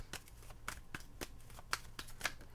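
Tarot cards being shuffled during a weekly reading: a run of quick, crisp riffling flicks and soft slides, close and quiet, with a few sharper snaps standing out and no talk over them.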